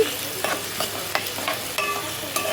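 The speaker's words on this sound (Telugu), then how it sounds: "ఉల్లిపాయలు అనేది బ్రౌన్ కలర్లో వచ్చే వరకు ఫ్రై చేసుకున్నానండి" Thinly sliced onions and green chillies fry in hot oil, crackling close and steady while a spoon stirs them in regular scraping strokes about every half second.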